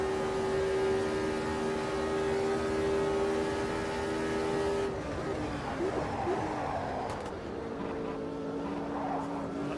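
A turbocharged 1983 Formula 1 car engine at high revs on a straight in Automobilista 2, a steady tonal whine that breaks into rougher, shifting engine noise as another car approaches.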